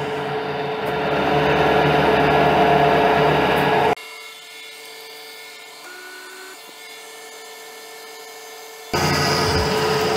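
A milling machine cutter grinds steadily at a brass tub drain adapter, loud at first, then drops to a quieter motor whine before the cutting roar abruptly returns.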